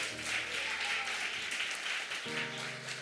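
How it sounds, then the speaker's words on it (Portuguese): A church congregation at a women's worship service applauds steadily throughout, a dense wash of clapping with sustained organ or keyboard tones underneath. "Aplaude ao Senhor em nome de Jesus."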